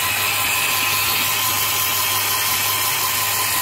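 A LEGO Great Ball Contraption module driven by a geared motor hums steadily, with a constant mechanical whir and faint ratcheting of turning gears, close and continuous without talk.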